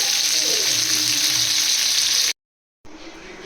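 Fish frying in hot oil gives a loud, steady sizzle and crackle that runs alone, breaks off into silence for about half a second, then returns.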